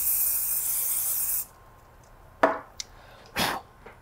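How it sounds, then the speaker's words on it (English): An aerosol can sprays a coating onto a dark part being prepared for 3D scanning: one long close hiss that cuts off, then two shorter bursts with small clicks between. "I'm gonna spray the bottom and these two areas where I hit it"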